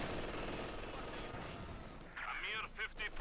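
Machine gun fire from a crew in Company of Heroes 2, a quiet, steady rattle of sustained bursts in the background, with a voice talking over the final second.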